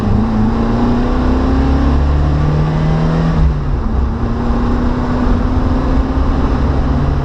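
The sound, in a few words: car engine revving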